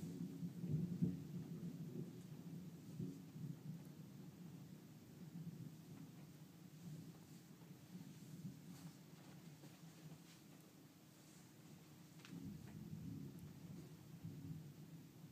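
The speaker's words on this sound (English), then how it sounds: "It's a thunderstorm." Low rolling thunder from a thunderstorm rumbles on and off through steady faint rain, heard indoors at a distance, fairly quiet, with no talking.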